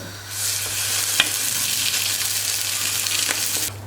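A Hatay-style sac flatbread, brushed with olive oil and flipped on a hot griddle, sizzles in a steady close hiss with a single sharp tap partway through, then stops abruptly; no voices.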